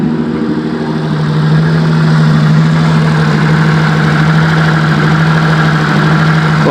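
A fuel-rich engine idles high just after a cold start, running as a steady, loud drone with a constant low hum and no voices.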